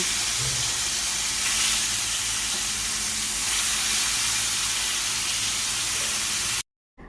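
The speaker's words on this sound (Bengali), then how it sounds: "আমি এখন মাছগুলো পাটাপাট ভেজে নিই" Fish frying in oil in a pan, a loud continuous hissing sizzle like steady spray, close and unbroken, cutting out briefly near the end.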